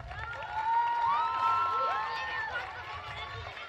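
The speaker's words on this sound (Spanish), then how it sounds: "Despedimos, por favor, con otro fuerte aplauso a la talentosa Sofía Ortiz." An audience at a school musical gala applauds and cheers for a singer, with shouts and whistles rising over the clapping before it fades slightly.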